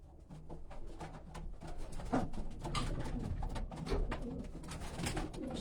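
Pigeons coo repeatedly inside a loft, overlapping low throaty calls at close range with a rising, busy rhythm and no voices.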